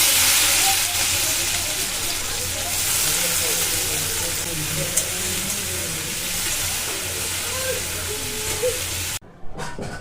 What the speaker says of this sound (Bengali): কড়াতে তেল দিয়ে পেঁয়াজ, কাঁচা লঙ্কা, টমেটো দিয়ে দিলাম।